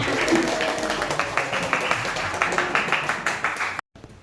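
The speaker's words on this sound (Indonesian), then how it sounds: "Nah, tepuk tangan semuanya." A class of students claps hands together, a dense run of overlapping claps holding steady for several seconds before cutting off abruptly.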